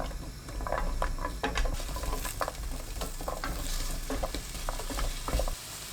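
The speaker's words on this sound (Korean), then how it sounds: "팬에 식용유 1큰술, 당근 넣고 센 불로 1분 30초 볶습니다." Sliced carrots sizzle and crackle in a spoonful of cooking oil in a pan over high heat, with steady frying hiss and repeated scraping stir sounds, up close and without talking.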